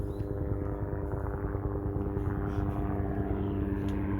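Police and fire helicopters pass overhead, producing a steady, loud rotor-and-engine drone that holds throughout with no break and no voices.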